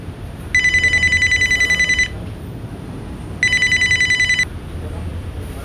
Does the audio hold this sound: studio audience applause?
no